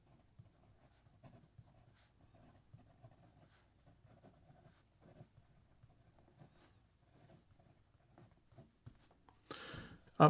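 Fountain pen with a medium Bach nib scratching across paper, a faint, steady scribbling with soft strokes and pauses, close up, ending in a brief louder rustle.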